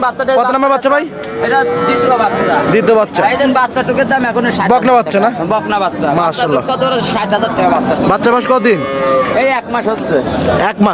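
Dairy cows at a cattle sale moo repeatedly, loud and close, several animals overlapping in a steady stream of lowing with a little crowd chatter in the background.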